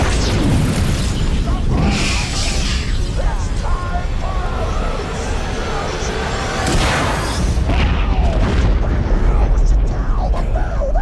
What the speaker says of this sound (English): it is literally a loot explosion